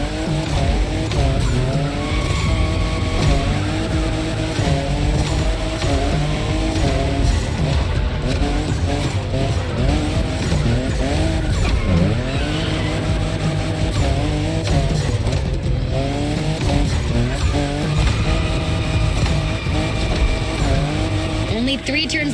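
A fifth-generation Toyota Supra drifts in the racing game The Crew Motorfest, its engine revving in rising and falling sweeps under loud, sustained tire squeal that runs continuously through the whole stretch.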